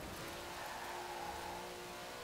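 Porsche 959 Prodrive rally car from 1985 in Forza Horizon 4, its engine droning steadily at a sustained pitch, moderately loud and alone with no talk.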